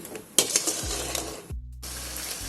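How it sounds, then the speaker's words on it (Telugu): Pithala curry frying in a pan, with a sharp utensil clank followed by quick scraping stirs over a low sizzle, all close and fairly loud. "బాగా ఫ్రై చేయాలి."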